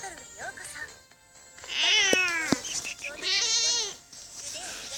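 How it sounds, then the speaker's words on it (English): A domestic cat meows twice at close range, each cry a drawn-out, rising and falling call, the first louder and the second slightly longer, with faint speech in the background. "My cat has joined us in for the final part."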